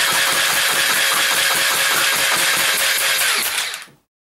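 A motorized Nerf Crossbolt blaster with Swarmfire integration fires in a loud, fast whirring burst with rapid rhythmic pulses, then cuts off sharply into silence.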